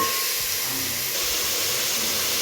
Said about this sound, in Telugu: ఇప్పుడు చికెన్ని కాసేపు బాగా ఫ్రై చేసుకుందాం